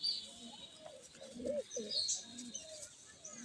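Pigeons coo with soft low throaty calls, heard close by in short repeated phrases alongside faint chirps and a steady background hiss, with no talking.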